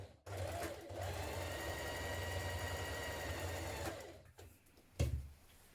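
A sewing machine runs a steady, fast stitching whir along the centre back seam of a sweatshirt neckband, stopping near the end before a brief clunk and a short final burst.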